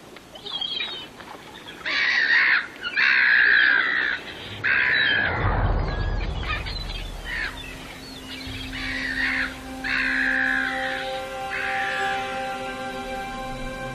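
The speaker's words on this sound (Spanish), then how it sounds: "Las gaviotas continúan disfrutando de tan espléndido banquete." Seagulls feeding on a huge swarm of insects call repeatedly, a run of loud harsh squawks and cries in bursts, with a low rumble partway through.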